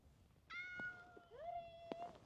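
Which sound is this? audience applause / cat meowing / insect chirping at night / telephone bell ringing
cat meowing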